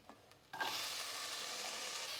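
Something is sizzling and crackling as it burns, quiet at first and then a sudden, steady hiss that holds close and even to the end, with no talk.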